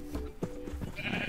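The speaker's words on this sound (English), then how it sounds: "Sheep. Hey, sheep." Sheep bleat in the Minecraft game, a couple of short wavering animal calls close by, followed by a higher tonal sound.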